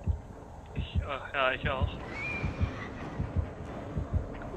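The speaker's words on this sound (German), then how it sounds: "Ich höre noch den Herzschlag" In the video game Dead by Daylight, the killer's approaching heartbeat thumps in a steady, regular low pulse under players talking in German.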